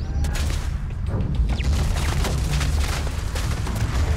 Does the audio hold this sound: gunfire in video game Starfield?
yes